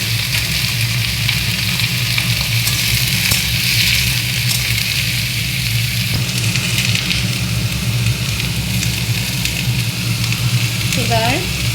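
Vegetables added to onion and garlic sizzle steadily in a pan for khichuri, a continuous broadband frying hiss with a low hum underneath, close and fairly loud with no talk.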